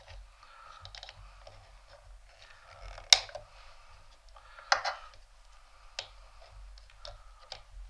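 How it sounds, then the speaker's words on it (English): Wire cutters snip the thin negative wire inside a Sigelei vape mod during fitting of a spring-loaded 510 connector: two sharp, quiet clicks a second or so apart over low background hiss, with no talking. "I'm going to just snip that."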